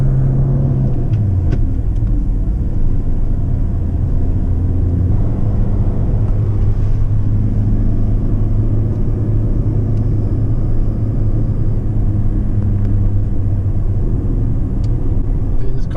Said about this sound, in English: Should we try a little rev match downshift?